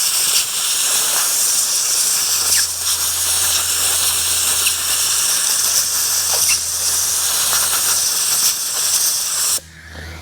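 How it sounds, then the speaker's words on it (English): Compressed air hisses steadily through a greasy trailer wheel bearing held flat, a loud continuous blast with slight surges that runs nearly ten seconds before cutting off abruptly near the end. "So just hold it flat and just use some air."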